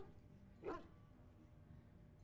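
A single short dog bark rings out in the Dragon Age: Origins video game, one mid-pitched yelp over a quiet, low ambient game background.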